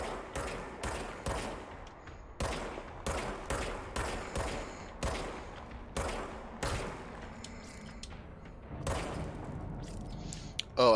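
Rapid bursts of service weapon gunfire in the video game Control, a dozen or more sharp shots in quick clusters with short pauses between, loud and close, with no talking.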